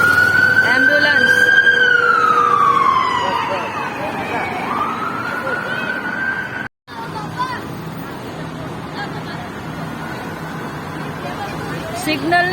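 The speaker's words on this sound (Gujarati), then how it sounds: "એમ્બ્યુલન્સ." An ambulance siren wails on a street in the UAE, loud at first and then dropping in pitch and fading as it passes, with voices talking and traffic noise underneath.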